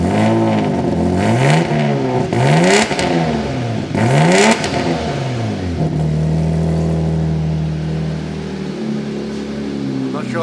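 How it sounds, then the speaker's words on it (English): A 1JZGTE engine fitted in an LJ Holden Torana revs loudly several times in rising and falling sweeps, then settles into a rumbling idle, with voices talking over it. "You give it a little rev?"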